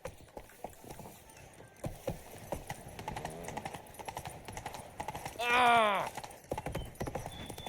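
Hooves of a horse clip-clop steadily while riding in The Witcher 3: Blood and Wine, with a loud whinny near the end and a voice calling out briefly over the footfalls.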